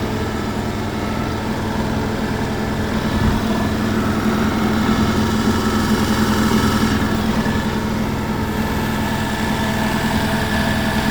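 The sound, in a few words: Beko washing machine running an unbalanced spin cycle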